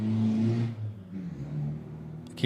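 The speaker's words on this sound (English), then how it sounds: "very loud car, no exhaust." A loud car with no exhaust system revs hard then drops off, a raw, unmuffled roar passing fairly close.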